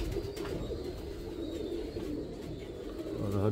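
A Teddy pigeon from a breeder pair coos softly, a low, repeated throaty murmur continuing over a few seconds, close by with light background noise and no talk.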